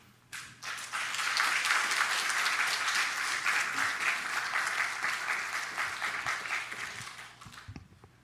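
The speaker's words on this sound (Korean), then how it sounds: "이 시간에 목사님 나올 때를 박수로 환영하겠습니다." Congregation at a Sunday worship service in a Korean church applauds to welcome the pastor, a steady, fairly distant round of clapping that swells after a second, holds for several seconds, then dies away.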